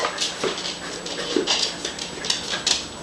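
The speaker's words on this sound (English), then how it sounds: "I think she's going to be a great family dog" A two-year-old, 39-pound rescue dog, a female, whimpers softly in short, repeated high whines and yips over a steady background hiss, with no talking.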